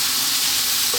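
Cold cooked rice fries over high heat for a curried vegan veggie fried rice with tomato and cilantro, making a loud, close, steady hissing sizzle that carries on without a break and has no talk over it.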